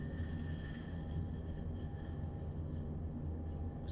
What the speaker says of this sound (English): It sounded like a bearing in this train was about to fall apart.